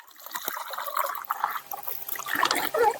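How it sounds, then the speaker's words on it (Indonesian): Water trickles and splashes as it is poured to rinse ingredients into a pesticide mix for spraying durian trees, a faint, uneven pour with brief stronger splashes near the end. "kita berikan air lagi, kita bilas dulu di atasnya"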